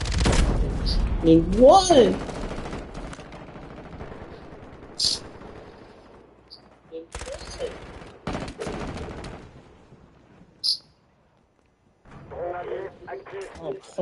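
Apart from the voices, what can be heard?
gunfire and grenade in the video game Call of Duty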